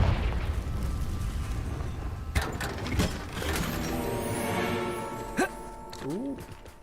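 Confringo spell cast in the Hogwarts Legacy video game: a loud fiery blast with crackling, whooshing energy and a few sharp bursts, layered over dense game sound.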